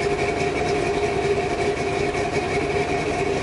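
A 1984 truck engine runs rough, spitting and sputtering, with a loud, steady droning hum and an uneven low pulsing underneath, close by and heard alone without talk.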